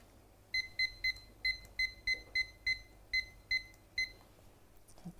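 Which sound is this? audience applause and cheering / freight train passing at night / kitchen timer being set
kitchen timer being set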